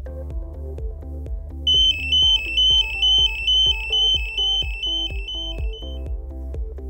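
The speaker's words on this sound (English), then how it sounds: "the ALTAIR io4 will activate audible, visual, and vibrating alarms" A loud electronic alarm from an MSA ALTAIR io 4 gas detector beeps in a fast, repeating pattern of high tones over a steady buzzing pulse, continuing insistently for several seconds.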